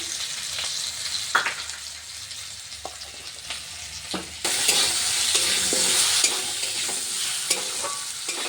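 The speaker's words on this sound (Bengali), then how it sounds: "তো আলুগুলো একটু হালকা ভেজে নিচ্ছি।" Potatoes sizzle lightly in a pan with cumin, salt and turmeric, a steady crackling fry broken by a few scraping stirs, then the sizzle grows louder and brighter halfway through, close and with no voices.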